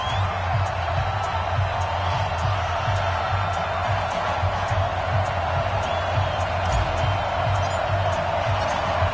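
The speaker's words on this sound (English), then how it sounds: "This crowd is ready as their guys get set to match up between the Detroit Lions and the Tennessee Titans" Stadium crowd noise in an EA Sports NFL video game before a Detroit Lions versus Tennessee Titans matchup: a steady, dense roar of cheering that holds at a constant level throughout, with faint whoops in the mix.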